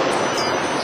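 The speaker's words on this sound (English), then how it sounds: "The train is leaving." An airport train in Chicago moves along its track with a dense, steady rumble and rush of wheel and rail noise, loud and close from inside the car.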